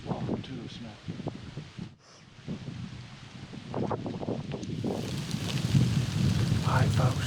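Wind gusting around 21 mph across autumn Montana hunting ground, a steady buffeting rush with leaf rustle that grows louder toward the end while someone talks quietly over it.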